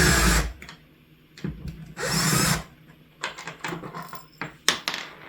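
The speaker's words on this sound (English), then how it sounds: "it's just a hex head bit there, and I've got my drill, and Josie is helping me pick out the right" A power drill drives a hex head bit in short whirring bursts separated by pauses, followed by lighter clicks and handling noises, close by in a city garden.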